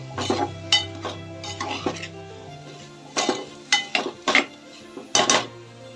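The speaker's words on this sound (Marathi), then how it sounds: "नंतर यामध्ये थोडं चवीनुसार मीठ आपण भातामध्ये सुद्धा मीठ टाकलं आहे त्यामुळे थोडंच मीठ टाकायचं आहे" Vegetables are stirred and tossed in a metal pan while cooking pulao, giving irregular clinks and scraping bursts of utensil against pan, fairly close, with a low steady hum underneath and no talking.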